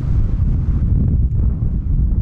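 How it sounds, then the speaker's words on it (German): Strong wind buffets the microphone in a steady, loud low roar with slight gusting variation throughout, no voices over it. "aber gerade war echt ein heftiger Wind"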